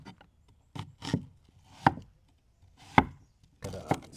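A knife chops onions on a cutting board for a venison burger, giving about six sharp, close knocks at irregular intervals with quiet gaps between them.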